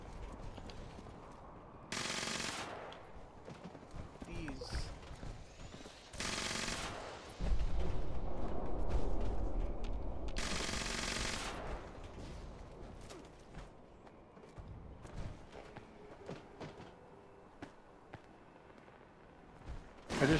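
Bursts of automatic gunfire in the video game Fallout 76, several sharp loud volleys spaced a few seconds apart over a rumbling, murky game backdrop.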